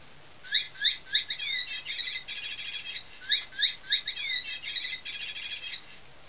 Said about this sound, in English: This one, if there's a change in the light, like a shadow goes over it, it sings to you